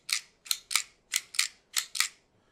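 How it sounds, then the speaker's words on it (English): A fiber optic cleaner clicker pressed repeatedly: seven sharp, bright clicks in a quick, slightly uneven rhythm, close and clear with no talking. "just use the clicker as you need to, clicking one, two, for the wet solution"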